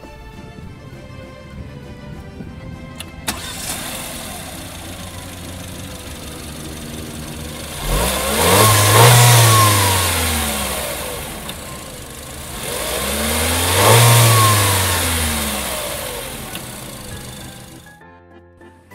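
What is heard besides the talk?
Peugeot 3008 SUV engine starting and revving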